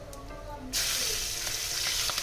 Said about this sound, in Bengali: ফোড়নটা ভেজে নিয়ে আমি এর মধ্যে দিয়ে দেবো কিছু কাঁচা লঙ্কা, কেটে রাখা কিছু কাঁচা লঙ্কা।